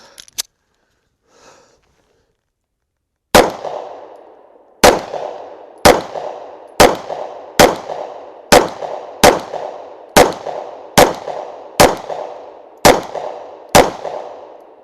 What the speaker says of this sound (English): Shoot the Sig now right after.